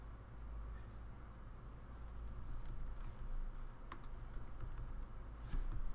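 Computer keyboard typing, a quiet run of light clicks and taps over a steady low hum, growing slightly busier toward the end with no talk.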